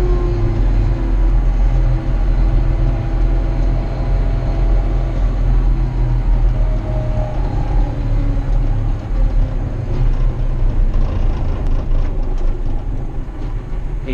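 A John Deere 6105 RC tractor runs at top speed with a loud, steady drone of engine and rolling rumble, continuous and close throughout with no talk.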